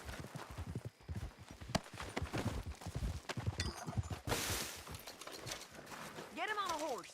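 Horse hooves clip-clop in the Western video game Red Dead Redemption 2, a run of sharp hoofbeats close by under ongoing talk, and a horse whinnies near the end.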